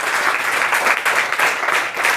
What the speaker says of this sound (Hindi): बस इतनी तालियां, ज़्यादा नहीं